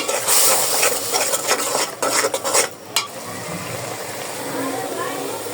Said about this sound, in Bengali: সামান্য একটু রসুন বাটা দিয়ে দিব। এই যে একটু রসুন বাটা দিয়ে দিলাম।